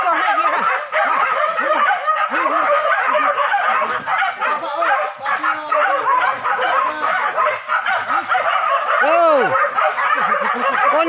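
A dog barks and yips in quick, repeated bursts amid a busy outdoor scene, with whimpering calls rising and falling and people talking in the background throughout.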